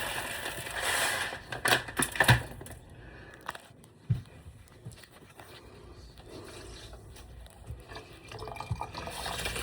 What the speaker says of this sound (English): So I'm gonna wash my rice, get it all nice and clean.